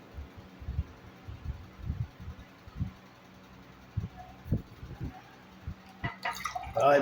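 Someone drinks water in hot weather, a series of soft, low gulping swallows at an uneven pace, close and fairly quiet, with a brief rustle at the end.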